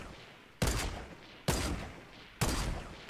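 Three evenly spaced, loud sniper rifle shots ring out in a Fortnite match, each a sharp crack that decays with a short tail, with no voices in between.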